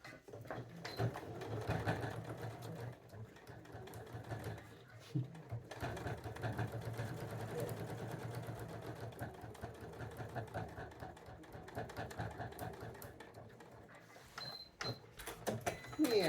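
Sewing machine running steadily while top stitching a vintage floral fabric coin purse, a close mechanical whir with brief pauses near the end.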